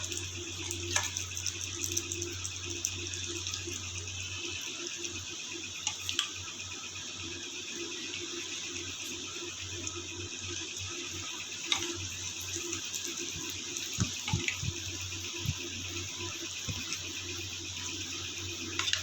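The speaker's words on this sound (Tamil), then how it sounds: "இப்போ வந்து ஒவ்வொரு இறாலாக போட்டு நம்ம பொரித்து எடுத்துக்கலாம்" Prawns fry in hot oil for prawn fried rice, making a steady, hissing crackle throughout with scattered small pops and no talking.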